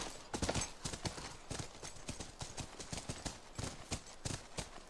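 Horse hooves in The Last of Us on PS3, a quick, even clip-clop of a nearby horse moving at a trot, with no voices over it.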